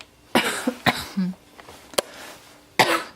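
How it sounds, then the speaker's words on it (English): Several sharp coughs, close and fairly loud, come in short separate bursts from someone standing in a cold garage, with a brief spoken word between them. "this video is going to be so annoying with all my coughing"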